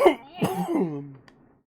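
A single person coughs and then clears their throat in a rough, close burst that trails off into a short hoarse rasp and silence.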